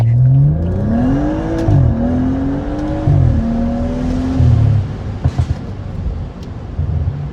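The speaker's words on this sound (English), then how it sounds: "Let's try the DSC off, shall we? See if she'll give us any fun burnout action, right?" A BMW 335i F30 with an N55 engine on an MHD Stage 2 E30 blend tune, stability control off, revs hard in rising and falling sweeps. It then drops to a rougher, quieter rumble with sharp crackles near the end.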